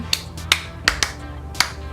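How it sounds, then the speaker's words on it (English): Several sharp hand claps ring out one at a time in an uneven rhythm, about five in two seconds, each close and crisp over a quiet room hum. "I really love clapping, apparently."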